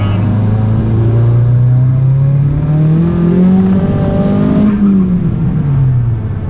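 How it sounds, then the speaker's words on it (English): A Volkswagen MK6 GTI with a Mamo M500 turbo upgrade accelerates hard, its engine note climbing steadily through a gear before a quick shift and a fresh rise, loud and close. "I love this turbo so much. It's awesome. It spools fast."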